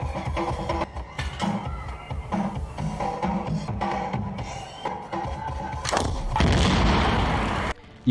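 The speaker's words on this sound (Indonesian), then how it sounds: "Ipan berhasil menembak mobil itu sehingga meledak" Gunfire and a car blowing up in a film scene: a run of sharp, booming shots with short gaps, then a bigger, louder blast near the end that swells into a sustained roar before cutting off.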